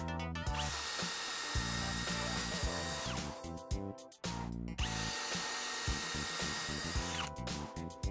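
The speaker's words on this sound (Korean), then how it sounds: "20mm 타공을 진행해도 부하가 느껴지지 않을 만큼 강력하네요" A Milwaukee cordless drill running on a Forge 8A battery bores a 20mm hole, its motor whirring loud and steady in two long runs with a brief break between them.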